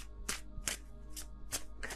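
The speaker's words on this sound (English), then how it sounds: "I can shuffle this deck" A deck of tarot cards is shuffled by hand in a quiet room, making about five soft, crisp riffling bursts in an uneven rhythm, close and faint.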